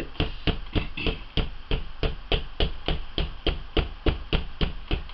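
Alcohol ink being pounced onto a surface, a steady series of about fifteen sharp dabbing taps in an even rhythm, close and distinct, with no talk.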